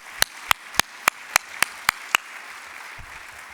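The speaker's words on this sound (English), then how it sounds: "Let's give him another round of applause." Applause for the mayor at a city State of the City event: eight sharp, evenly spaced claps ring out near and clear for about two seconds, then give way to quiet room tone.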